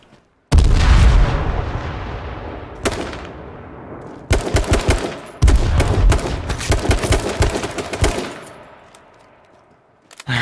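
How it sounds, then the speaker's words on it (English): Grenade blasts and rapid gunfire in H1Z1 King of the Kill, a survival shooter firefight: dense bursts of automatic fire and booming explosions fill most of the stretch, with brief lulls between volleys and a last burst at the end. "He's throwing grenades, watch out."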